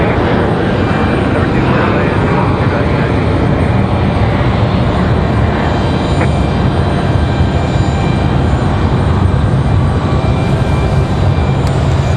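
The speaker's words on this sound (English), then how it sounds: "As we got a Delta getting out of here." A Delta airliner departs Raleigh-Durham International Airport, its engines a steady, loud roar holding through the whole stretch, with an open-air hiss over the top and no speech heard.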